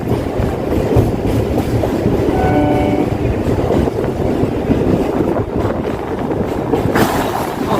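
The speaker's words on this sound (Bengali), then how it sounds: "ট্রেনটা কীভাবে মোড় নিচ্ছে দেখো" A train on the Sealdah to BBD Bag line, near Khidirpur Dock, rumbles steadily along the tracks through a curve with grinding metal squeals and clatter, loud and close, no voices.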